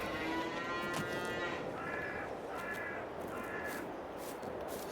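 Cattle in Farming Simulator 22 moo several times in a row, steady mid-range calls over a constant outdoor farm ambience, with no talk.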